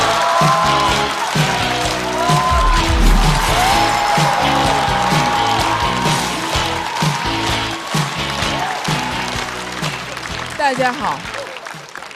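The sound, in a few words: audience applause welcoming a comedian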